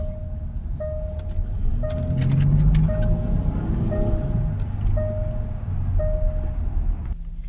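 A Range Rover 3.0 with intake air leak and boost faults is driven on a test drive, heard as a steady low engine and road rumble from inside the cabin, with a periodic faint beeping tone.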